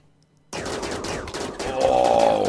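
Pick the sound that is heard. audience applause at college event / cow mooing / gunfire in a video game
gunfire in a video game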